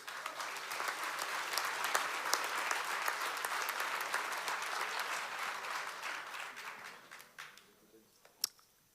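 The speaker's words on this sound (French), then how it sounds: "Vous pouvez à nouveau l'applaudir." Sustained applause from a festival audience at the Gérardmer fantastic film festival closing ceremony, honoring the jury prize film; dense, steady clapping fills the room before thinning out to a few scattered claps at the end.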